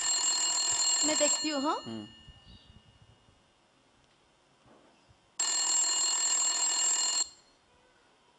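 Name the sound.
home telephone bell ringing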